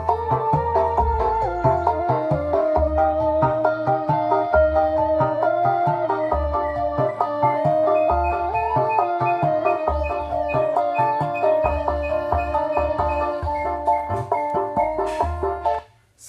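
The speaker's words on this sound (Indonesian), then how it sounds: "Jadi ini suara yang dikeluarkan benar-benar suara low ya dulur." A speaker driven by a homemade circuit with a flyback plays music heavy in low bass, a continuous, steady, dense sound with throbbing low pulses throughout.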